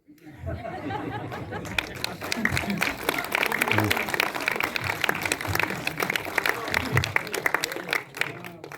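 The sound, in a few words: audience applauding Philippe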